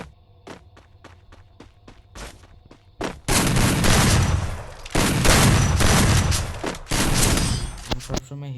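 Gunfire rings out in a shooting video game: a string of separate single shots, then loud, sustained automatic bursts broken by short pauses.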